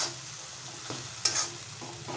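A spoon stirs cooked tomatoes into a rajma gravy in a pan, giving a few soft scrapes and one sharper clink over a faint, quiet simmer.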